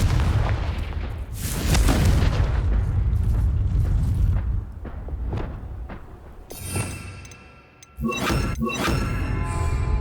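Confringo blasting curse in the Hogwarts Legacy video game: repeated heavy booms and thuds with sharp shattering cracks, loud and close, several distinct blasts spread across the stretch with a bright burst near the end.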